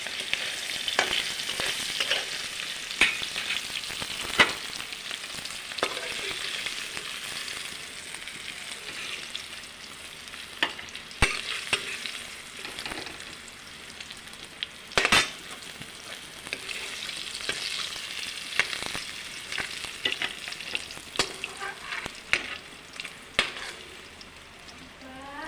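Curry cooks in hot oil with a steady, close sizzle and frying crackle, broken by occasional clicks and scrapes of stirring, without any talking.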